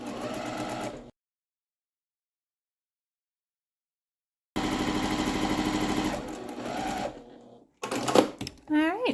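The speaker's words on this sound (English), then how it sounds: "So we're back at the sewing machine, and we're going to join that center seam that connects row 1 and 2 with row 3 and 4." A sewing machine stitches a quarter-inch seam joining rows of a 16-patch quilt block, running in steady mechanical bursts with a long silent gap, then stopping and starting again near the end while someone talks.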